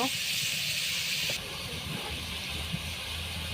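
Onions and potato fry in oil, a loud, steady sizzle filling the clip, dropping slightly in intensity partway through.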